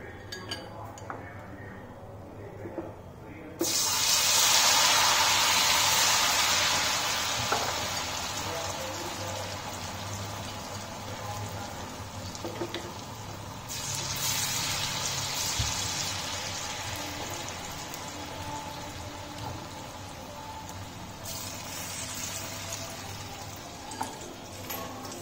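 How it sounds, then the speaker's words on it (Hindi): Soya chunks frying in hot cooking oil in a kadai over a high flame hiss and sizzle steadily after a sudden start, with occasional clinks of utensils and someone talking in Hindi over the cooking. "अब ये सोया मैं इसमें डिप करूंगी और थोड़ा थोड़ा करके हम इसे फ्राई करेंगे।"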